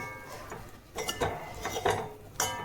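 Metal spatula chopping and scraping shredded chapathi with egg in a pan for kothu, a few irregular clanking strikes and scrapes, fairly close.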